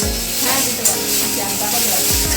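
Chopped spring onion stalks hit hot oil in a pan for a prawn mustard curry, giving a close, steady sizzle and fry with light stirring throughout.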